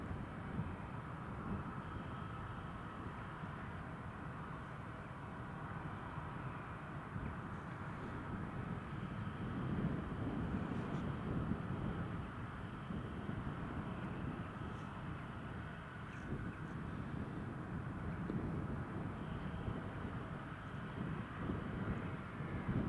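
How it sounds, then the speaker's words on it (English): A Eurowings airliner taxiing at Newcastle airport gives a steady, distant engine rumble and whine, fairly faint and continuous beneath light wind noise, with no talk. "So Eurowings just taxiing along."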